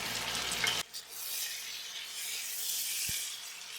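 Potatoes fry in a pot for one-pot chicken pulao, a steady broad sizzle under a bubbling hiss, with a brief clunk and one low knock of a utensil partway through; no one speaks.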